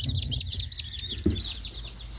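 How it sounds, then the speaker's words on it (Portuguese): Day-old chicks on an organic farm cheep in a dense, continuous chorus of high, thin peeps, close and steady with a brief louder knock partway through. "Esses daqui tem um dia. Pintinhos de um dia."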